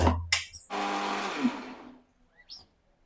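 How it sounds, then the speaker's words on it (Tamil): A mixer grinder grinds onion into paste in one short, loud whirring burst that runs a little over a second and then winds down, followed by faint handling sounds. "இங்க அரைக்கலாம்."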